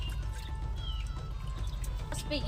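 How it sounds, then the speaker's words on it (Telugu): Water poured over raw chicken egg sacs (guddla seru) in a bowl to wash them, a steady close trickle and splash with a low hum behind it. "దీంట్లో ఇప్పుడు నీళ్ళు వేసుకుని ఒక 5-6 సార్లు వరకు శుభ్రంగా కడుక్కోవాలి"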